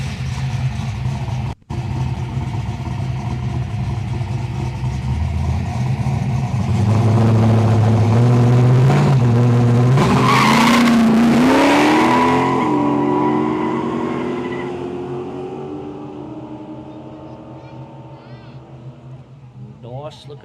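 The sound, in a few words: LH Torino and HQ sedan GTS drag racing on an airstrip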